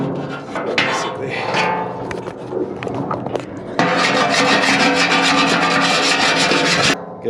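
Hand sanding along the edges of a homemade race car, a steady close rubbing and rasping that grows louder and more continuous midway before stopping abruptly.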